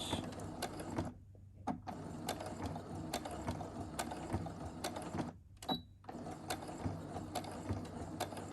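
A sewing machine back stitches on a fabric mask, running in a steady mechanical whir with rapid needle ticks, briefly pausing twice before starting up again, close and moderately loud.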